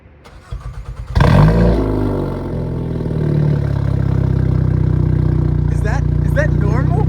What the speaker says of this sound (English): All right, first start. Let's go. Borla exhaust,